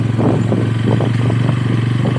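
A motorcycle is ridden along in hot, still weather. Its engine drones close and loud with a steady low throb and faint rattling pulses that continue throughout. No voices.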